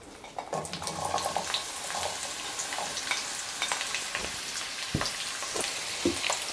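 Steady sizzle of onion frying in vegetable oil, with scattered crackles and pops, close up, with a few sharp clinks near the end; no talking.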